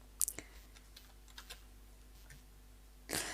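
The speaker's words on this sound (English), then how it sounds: "what I did there when I was typing that up, I typed in switch, I hit tab" Computer keyboard typing while writing C# code, a couple of sharp keystrokes at the start, sparse soft taps through the middle, and a louder cluster of presses near the end, close and alone.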